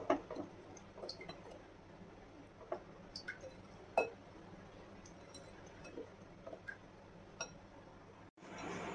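Batter for stuffed chillies, made with baking powder and a little water, is whisked by hand, giving faint, irregular soft clicks and wet squishing strokes at close range with no talking.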